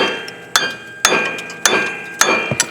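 Hammer smacking a pulley off a Briggs & Stratton twin-cylinder engine: four loud, sharp metallic strikes at a steady pace, each ringing briefly, with a small extra tap at the end.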